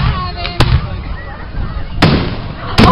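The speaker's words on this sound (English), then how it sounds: "5-second fireworks, ladies and gentlemen." Fireworks bursting over Kenlake State Park on July 2nd, with three sharp booms spread across a few seconds over a steady outdoor crowd murmur, the blasts loud and close overhead.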